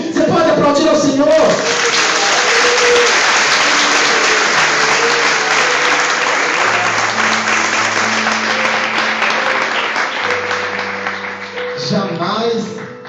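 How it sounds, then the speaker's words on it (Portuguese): A church congregation applauding during a sermon, loud, dense and sustained clapping with sung or held musical tones running underneath and voices rising briefly near the end. "Você pode aplaudir ao Senhor"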